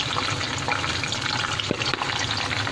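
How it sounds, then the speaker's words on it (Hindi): A pasanday meat mixture fries in hot oil with a dense, unbroken sizzle, loud and close, with occasional small crackles. "अब हम पसंदों के मिक्सचर को ऑयल में ऐड करेंगे।"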